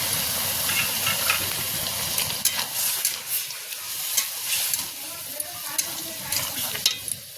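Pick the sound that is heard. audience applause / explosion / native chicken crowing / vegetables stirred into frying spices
vegetables stirred into frying spices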